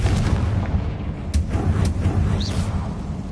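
Booming fiery blasts from the Confringo spell in Hogwarts Legacy, a loud rumbling low-end barrage with sharp bursts cracking through, continuous for a few seconds with no talk.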